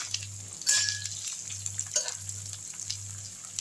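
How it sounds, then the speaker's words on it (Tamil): Chopped sambar onions sautéing in hot oil for a yam Manchurian, a bright, steady sizzle with a low hum beneath and a couple of brief stirring clinks. "இப்போ இதிலே வந்து சாம்பார் வெங்காயம் பொடியான இருக்கிறது எடுத்து குட்டிடலாம்."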